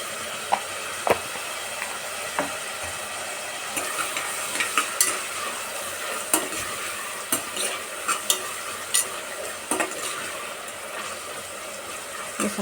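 Tomatoes with turmeric powder frying in a pan for bean sambar, a steady sizzle broken by sharp clicks and scrapes of a spoon stirring against the metal, close up with no talking.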